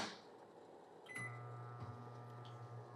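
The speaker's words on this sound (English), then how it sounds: "that's going into the microwave" A click and beep, then a steady low electrical hum as a microwave oven runs heating akara, with a brief clunk partway through.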